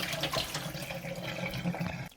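Soaked chickpeas rinsed under running water, a steady close splashing flow from a tap into a sink that lasts about two seconds and then cuts off abruptly.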